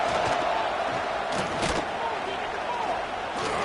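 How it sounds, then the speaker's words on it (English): A stadium crowd in a college football video game, Tulsa at Arkansas, roars in a dense, steady wash with louder swells, mixed with commentator-style voices. "This crowd going to try to make life miserable for these guys."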